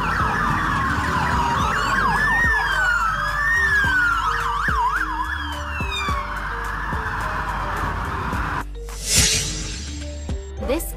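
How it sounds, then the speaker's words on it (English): A police motorcycle siren wails in rising and falling sweeps, loud and steady and close by, then cuts off near the end with a brief burst of noise. "It has flashing lights and a siren to warn others."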